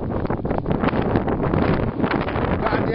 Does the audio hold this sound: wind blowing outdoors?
yes